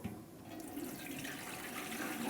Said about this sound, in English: So I prepared some water. Let me just pour it in.